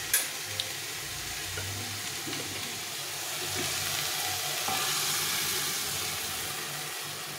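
Half-boiled dal poured into vegetables frying in a pan, giving a steady broadband sizzle and hiss with a brief clink at the start, the bubbling swelling a little midway and holding close and even.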